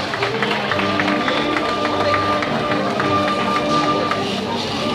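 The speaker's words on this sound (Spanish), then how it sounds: "Un fort aplaudiment per als moros i cristians de Benidorm." A large crowd at a Moors and Christians fiesta parade in Benidorm claps and cheers, a dense patter of applause with voices and music behind it, sustained at moderate loudness.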